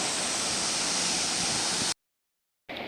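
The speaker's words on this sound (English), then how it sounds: "we are here to the next waterfall" Chania Falls in Thika, Kenya, by the Blue Post Hotel, gives a loud, steady broadband rush of falling water. It cuts off abruptly into silence, then returns briefly at the very end.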